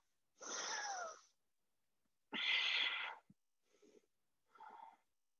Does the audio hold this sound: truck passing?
no